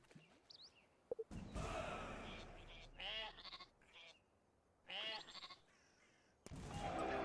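Sheep in the strategy game Northgard give several wavering bleats in short bursts separated by quiet gaps, fairly clear against a faint background.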